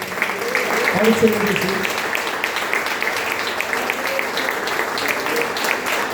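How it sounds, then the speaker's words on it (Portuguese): A church congregation claps during a Brazilian Portuguese family worship service, steady applause filling the room while a voice speaks over it. "Dê uma salva de palmas"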